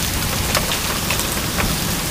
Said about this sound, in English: We got more hail coming down. These ones are larger.